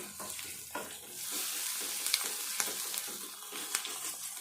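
Ginger garlic paste fries in a pan, giving a steady, close sizzle with faint stirring scrapes and a few sharp clicks of a spoon on the pan. No voices.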